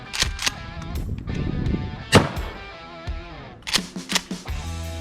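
Sharp, loud blasts from a Mossberg 590 Shockwave shotgun fired from the hip outdoors, with several reports spaced across a few seconds, each followed by a brief rumbling echo and the clack of the pump action.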